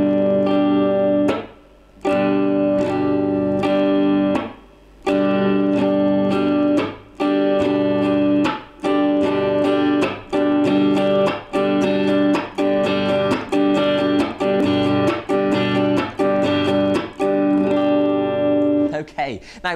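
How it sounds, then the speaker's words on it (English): Steady acoustic guitar strumming repeats a pattern of quick strokes broken by short muted chops, close and clear for a long stretch. "we're going to go down,"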